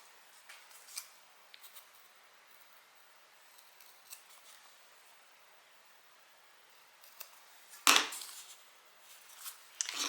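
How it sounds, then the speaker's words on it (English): Scissors snip out half-inch squares of material for a wallet turned crossbody bag, making faint, sparse cuts in a quiet room with one louder handling sound near the end. "So I'm just cutting out 1/2 inch squares."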